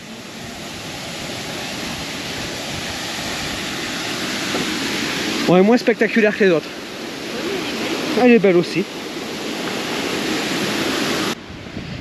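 A waterfall in Spain, one of three in the same spot, rushes in a steady broadband wash throughout, with two short stretches of people chatting over it.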